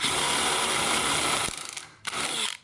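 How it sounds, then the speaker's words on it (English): A power drill bores steadily through a wooden stake side for a 1976 Ford F100 truck bed, whining loud and continuous, then easing off briefly before a second short burst. "That way you can flip it and drill from this side,"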